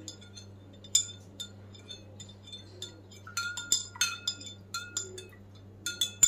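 A spoon stirring salt into lemon soda in a glass, with bright, irregular clinks against the glass that grow busier toward the end, heard close over a low steady hum.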